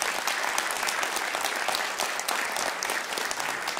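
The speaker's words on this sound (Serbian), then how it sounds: "Molim vas jedan aplauz za njih." An audience applauds a band at a live show in Kragujevac, a loud, dense, unbroken roar of clapping from many people that holds steady from start to finish.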